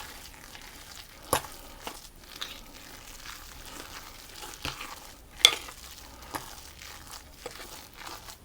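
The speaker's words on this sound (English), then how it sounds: "I'm going to add in the spring onions as well, and the carrot, and I'm just going to gently stir those until they're mixed through" Spring onions and carrot are gently stirred in a pan, making faint, soft sizzling with scattered light scrapes and taps of the utensil at irregular intervals. The sounds are quiet and close, and no one speaks.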